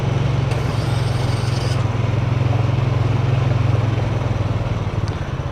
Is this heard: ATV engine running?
yes